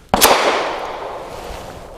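A single sharp gunshot from a Kimber R7 Mako pistol firing aluminum-case ammunition, a loud close crack followed by a long decaying echo across an outdoor range.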